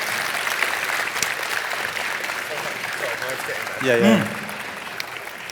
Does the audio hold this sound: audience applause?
yes